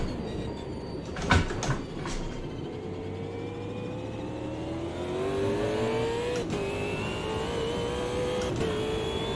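Car engine in a sim racing game revving hard through the gears, with rising and falling engine tones, a few gearshift blips and clunks early on, and a steady loud drone continuing throughout.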